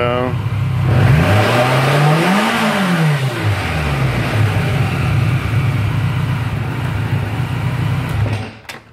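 A BMW K1200 motorcycle engine idles loudly up close, revs up once and falls back to a steady idle, then cuts off at the very end.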